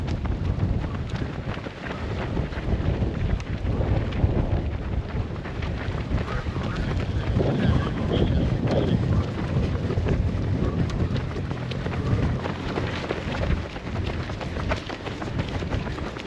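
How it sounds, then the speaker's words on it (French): Strong wind gusts roar and buffet steadily against the microphone during an outdoor 10 km road race, a dense, continuous rush with no pauses. "même si le vent est assez fort à ce moment-là"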